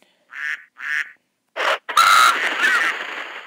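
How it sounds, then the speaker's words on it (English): Raven in the Survivalcraft game cawing twice in harsh, close calls, followed by a louder burst of flapping and further rough croaks trailing into a noisy wash. "And here is your raven."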